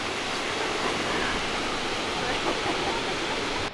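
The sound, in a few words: large waterfall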